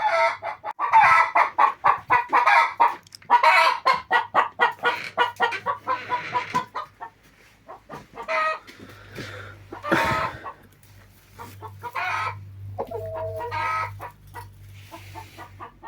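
Hens cackling after laying an egg, repeated loud rhythmic clucking calls in bursts, with a rooster-like crow and farmyard birds nearby; no talking.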